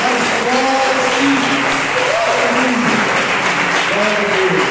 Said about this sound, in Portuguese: Vamos dar uma salva de palmas para o Senhor bem forte